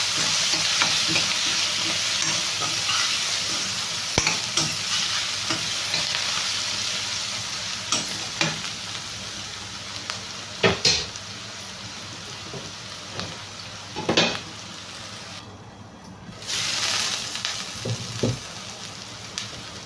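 Sliced onion sizzling and frying in a hot pan, with curry leaves in, for an egg and tomato dish; a steady hiss runs throughout, punctuated by scattered spoon-stirring clicks and scrapes, with no one speaking.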